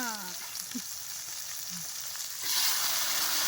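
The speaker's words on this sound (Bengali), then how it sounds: "এই দেখো পেঁয়াজ আর টমেটো দিয়ে দিলে একসঙ্গে, এটাকে ভাজবে" Onion and tomato fry together in a pan as the base for a mutton curry, a soft sizzle that swells noticeably louder partway through, with a few faint voice fragments early on.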